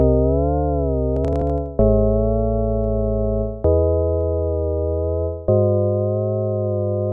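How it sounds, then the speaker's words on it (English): A synth chord with a pitch wobble preset, a retro sustained tone repeated in three or four held stabs, each with a slight wavering pitch and a sharp attack, loud and clean with no voices. "Next one, we have pitch wobble."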